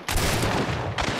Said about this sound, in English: Ooh, he's shooting at him.